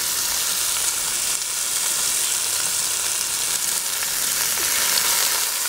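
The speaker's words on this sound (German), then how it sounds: "portionsweise unser Schweinenackenfleisch hier anbraten werden" Steady, loud sizzling of pork neck searing in hot oil in a Dutch oven, a continuous crackling hiss with no voices.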